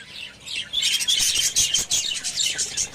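Several budgerigars chirp and twitter continuously at close range, a dense, busy chatter of overlapping high calls filling the space with no talking.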